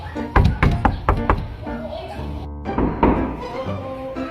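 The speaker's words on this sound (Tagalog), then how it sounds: "May kumakatok na naman." Knocking on a house door: a quick burst of several sharp, hollow knocks, then a pause and another cluster, close and loud, with voices speaking between the knocks.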